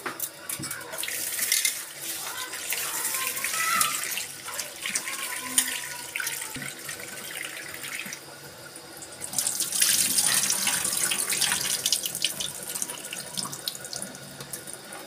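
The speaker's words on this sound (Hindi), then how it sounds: "अब धोएंगे चावल" Steady stream of tap water splashing into a sink, with grains being swished and rinsed by hand; the flow swells louder toward the end.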